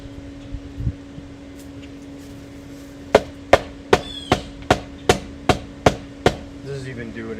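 Hammer strikes while building a wooden bird feeder, a lone knock early, then a steady run of about ten sharp, loud, evenly spaced blows close by, with a faint fan-like hum beneath.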